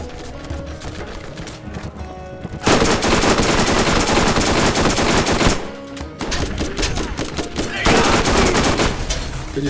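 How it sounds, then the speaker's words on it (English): Rapid automatic gunfire in Borderlands 1, crackling in dense, loud bursts. It starts after a quieter opening, breaks off briefly, then resumes and runs to the end. "Did you see his machine gun?"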